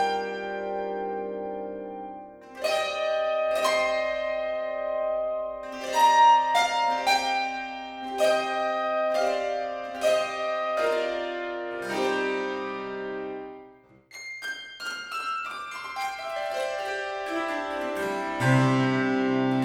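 The plucked string patch of the Arco sample instrument plays a melodic run of ringing, dulcimer-like notes with bright attacks and long, bell-like decays that overlap. It sounds clear and full, with no talking.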